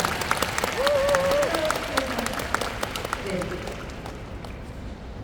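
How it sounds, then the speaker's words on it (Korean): Audience applause at an outdoor open talk for the film Good News at the Busan International Film Festival: a dense wash of clapping from a large crowd, fading slowly, with voices sounding over it. "박수 부탁드리겠습니다"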